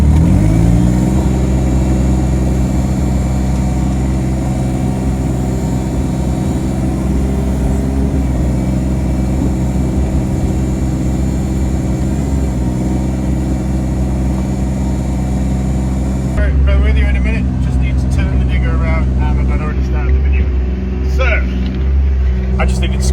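A tractor's heavy engine runs steadily close by while digging ponds, with a constant low throbbing drone, its tone shifting slightly as it works.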